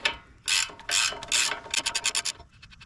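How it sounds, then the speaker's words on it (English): A hand ratchet working the upper control arm nut on a Ram 1500 during a coilover install: a few long scraping pulls followed by a rapid run of sharp, close clicks, with no voices. "So we'll take that upper control arm nut off."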